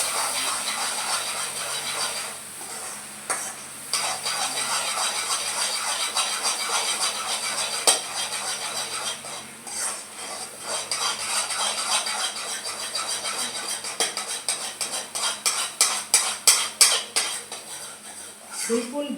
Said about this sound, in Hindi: शक्कर डाल करके इसको हिलाऊँगी ताकि शक्कर बिल्कुल घुल जाएगी इसमें